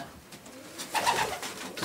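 Racing pigeons coo in a loft, soft throaty calls repeating close by over a quiet background.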